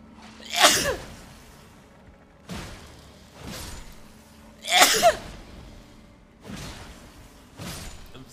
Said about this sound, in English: I'm sneezing directly to the microphone.